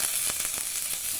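Garlic sizzles in half a spoon of butter in a pan, a steady close hiss of frying that runs without a break and without any voices.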